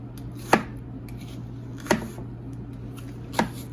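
Three sharp, evenly spaced chops of a Cutco knife through an onion, cutting it into big chunks on a cutting board, each stroke a crisp close knock over a low steady hum.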